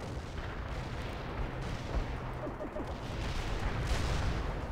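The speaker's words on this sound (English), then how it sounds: "Artillery barrage is for full effect." Sustained artillery barrage in the video game World in Conflict, a dense continuous rumble of distant shell impacts and gunfire with some louder bursts toward the end, no talk.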